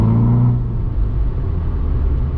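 A loud VW Polo GTI engine drones and rumbles under acceleration right after a gear change, the pitch settling into a steady low roar inside the cabin, with no talk.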